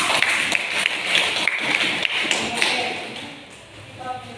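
Classroom applause from students during a biology lesson on digestive system disorders, a dense run of quick claps filling the room for about four seconds and fading toward the end, with a teacher's voice over it.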